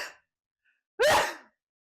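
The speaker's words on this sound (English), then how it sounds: "I'm gonna sneeze." A single sharp human sneeze bursts out loud and close after a brief breath, then quiet.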